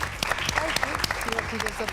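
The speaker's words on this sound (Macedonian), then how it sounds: "Дайте еден аплауз за Клементина." Brief burst of audience applause, dense clapping from a television studio crowd, with a voice speaking over it.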